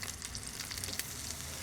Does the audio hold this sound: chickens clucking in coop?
no